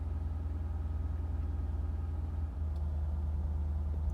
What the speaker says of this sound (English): Don't recommend warming up a car this way by just letting it idle